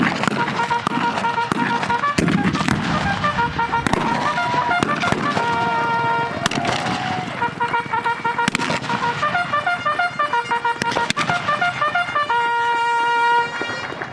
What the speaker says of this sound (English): B Troop, 4th U.S. Cavalry Memorial, wrapped up the ceremony with a pistol charge across the parade field.